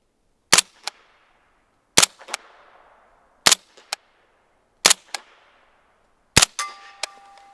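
Five sharp, loud shots of Tula 145-grain subsonic ammunition fire through a Dead Air Primal suppressor, evenly spaced about a second and a half apart, each a crisp crack with a short echo tail.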